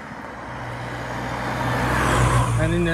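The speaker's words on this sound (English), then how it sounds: "A fair bit of traffic along here" Road traffic on a fairly busy little country road, a steady vehicle rumble that swells as a car or truck draws near and passes close by, with an engine hum continuing underneath.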